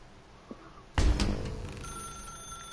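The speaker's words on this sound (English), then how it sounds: "That's her, Stanley." A telephone rings in The Stanley Parable video game: a sharp ring bursts in after a quiet start and decays into a steady electronic hum, heard alone and fairly loud.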